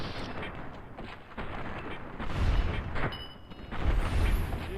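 Gunfire in the video game Fallout: New Vegas from a varmint rifle and other weapons: several loud booming shots and explosive bursts over a rumbling battle background, with a voice faintly present.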